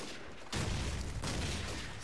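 A grenade explodes at spawn in Call of Duty 4 with a sudden loud, rumbling blast that lingers and crackles for over a second.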